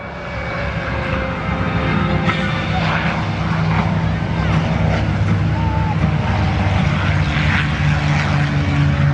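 A propeller trainer aircraft from the late 1940s or early 1950s flies at an air show, its engine droning loudly and steadily throughout while a voice talks underneath.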